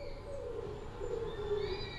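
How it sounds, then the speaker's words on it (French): Owl nesting under a synagogue roof, hooting in soft, drawn-out low calls over a faint background hiss, fairly quiet and distant. "le hibou qui niche sous le toit de la synagogue"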